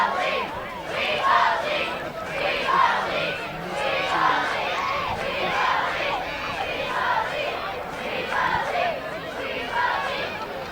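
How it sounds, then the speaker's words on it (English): A big crowd at a night high school football game between Placer Hillmen and Del Oro Golden Eagles, a steady murmur of chatter and cheering voices holding at an even level throughout. "Big crowd out here tonight."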